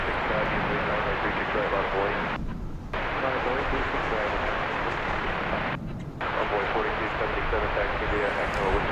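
An aircraft near DFW Airport by the Grand Hyatt at Terminal D gives a continuous broadband engine roar that holds steady for about nine seconds, with two brief dips, and faint radio-like voices sit beneath it.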